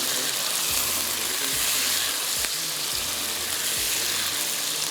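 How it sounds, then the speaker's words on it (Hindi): Green chilies fry in hot oil, a steady loud sizzle with bursts of spattering and faint stirring, and no talking. "हरी मिर्चें वरना फटक फटक जो उड़ी होती है, आराम से दोनों चीज़ें फ्राई होंगी"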